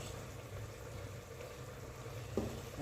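Mash and moong dal batter spooned into hot oil over medium heat bubbles and sizzles steadily, with a soft clink near the end.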